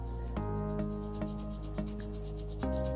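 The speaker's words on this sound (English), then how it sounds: "this is a sort of a sanding block that I've got" A sanding block rubbing over a brass head stamp: repeated scraping strokes about every half second, close and steady over a constant low hum.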